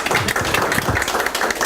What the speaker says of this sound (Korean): 다음은 이유진 여성공동운영위원장 후보님 말씀을 박수로 청하겠습니다.